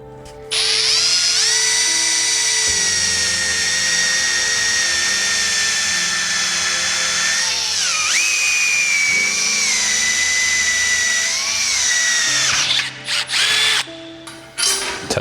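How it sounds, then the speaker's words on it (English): A power drill fitted with an 82-degree countersink bit spins in steady, loud high-pitched whine for about twelve seconds, dipping briefly in pitch as the bit bites into the hole, then stops with a few short bursts; no one talks. "Test out the countersink on this one."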